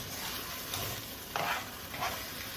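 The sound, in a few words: stirring sauce in a frying pan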